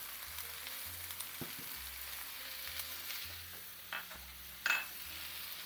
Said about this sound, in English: just give this a stir and let the peppers soften a bit